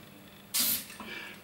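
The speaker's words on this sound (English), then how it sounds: "And then spray, making sure you spray the edges." An aerosol spray can releases one short, bright hiss of about a quarter second, followed by a fainter trailing spray, close to the microphone.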